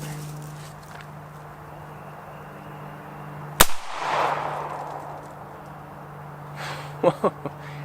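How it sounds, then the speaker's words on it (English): A single sharp 300 Blackout rifle gunshot cracks out mid-clip against steady background hum, trailed by a brief echoing rumble and a few faint clanks afterward. "we're going to take one more shot and we're going to verify our results from the previous shot"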